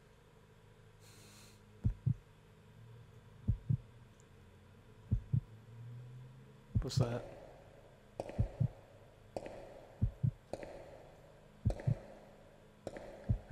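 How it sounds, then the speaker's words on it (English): A slow, muffled heartbeat in the game Resident Evil Code Veronica, thumping in steady double beats about every one and a half seconds under a dim ambient hum, with a brief spoken question near the start. "I hear like a heartbeat spooking me."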